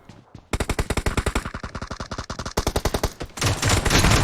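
Rapid automatic gunfire in the mobile battle-royale game PUBG Mobile: loud, close bursts of evenly spaced shots that pause briefly, then start again and end in a denser roar of firing.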